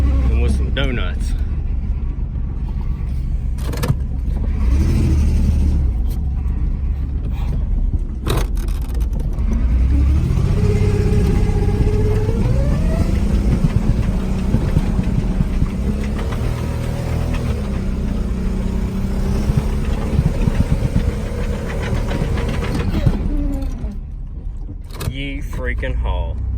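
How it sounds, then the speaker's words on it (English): A roughly 1994 Chevy Camaro engine revs hard while the car spins donuts, its loud, sustained drone rising and falling in pitch for most of the stretch, with a voice briefly heard over it. "What better way to start off a Camaro video than with some donuts?"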